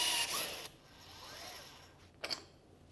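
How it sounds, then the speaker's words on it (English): A HYTORC hydraulic torque tool tightens a fastener fitted with a J washer, giving a broadband mechanical whir and ratcheting that fades, then a short sharp clack near the end; no talking. "I'm just pulling the trigger and letting the tool do the work."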